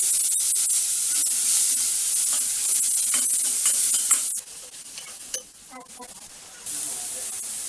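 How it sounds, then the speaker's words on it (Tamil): Sliced onion and ginger sizzle and spit in hot oil in a pan with a hiss that never lets up, broken by stirring clatter. The hiss drops back and then returns partway through. "நான் ஆயில் போட்டு வெங்காயத்தை வதக்குறேன்"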